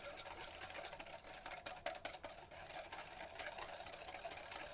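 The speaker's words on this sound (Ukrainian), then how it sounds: "буду файно вимішувати жовтки" Rapid, continuous whirring of an electric mixer beating egg yolks with sugar in a bowl, with a few brief clicks and knocks partway through.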